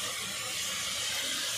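Prawns frying with tomato and spices in a pan, a steady loud sizzling hiss with no pauses, heard close up.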